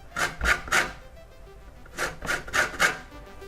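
Citrus peel rasped against a grater for zest while making vegan baked beans, two sets of three brisk scraping strokes in an even rhythm, close and clear with no talking.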